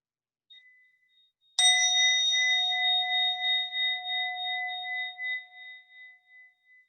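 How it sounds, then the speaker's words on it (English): A meditation bell is struck once, giving a clear bright ding that rings on with a long, slowly fading shimmering tone in an otherwise silent room. "we'll begin with a bell just to signal that we're starting"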